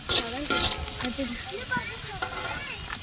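Capsicum and beans stirred in a hot pan for veg fried rice, a crackling sizzle with sharp scraping stirs near the start, while someone talks over it.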